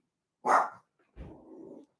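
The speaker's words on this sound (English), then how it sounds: "Forgive my dog." A dog gives one sharp bark and then a lower, drawn-out growling bark, close by, with quiet moments between them on a visit to Alcatraz.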